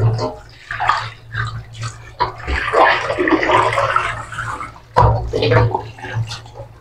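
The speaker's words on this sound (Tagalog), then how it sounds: "At atin ang hugasan itong isda." Water from a tap splashes and gurgles as fish is rinsed in a kitchen basin, a close, uneven stream of sloshing and spattering with a low steady hum underneath, while a voice speaks intermittently.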